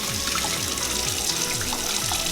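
Tap water runs steadily into a bowl of rice being rinsed in a kitchen sink, a continuous close splashing flow with no voices.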